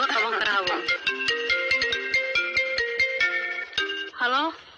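A melodic telephone ringtone plays a rapid sequence of bright tonal notes in a steady rhythm, ending in a rising flourish, loud and close with no talk over it.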